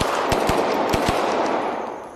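Gunfire in a VR shooting video game: about six sharp, loud shots in quick irregular succession over a hissy background that fades out, no talk.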